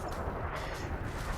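A ship's cannon firing in the space combat game Elite Dangerous, a dense, loud, sustained rumbling blast that fills the whole moment without any talk.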